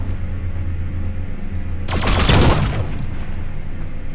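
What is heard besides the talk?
gunfire in the video game The Signal From Tölva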